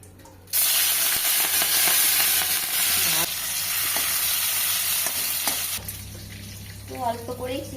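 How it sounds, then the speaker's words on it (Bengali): Shrimp fry in a hot pan with a loud, steady sizzle that holds for several seconds and then eases off, with a few scraping stirs toward the end. "তো চলো চিংড়িটা আগে ভেজে নিই।"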